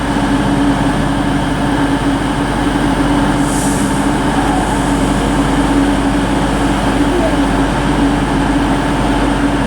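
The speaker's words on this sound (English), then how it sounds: "departure now is going to be the 11:13 Avanti West Coast service to Birmingham New Street" An Avanti West Coast train from London Euston pulls out of Birmingham International on the West Coast Main Line, bound for Birmingham New Street, a loud steady engine drone with a constant hum and no talk.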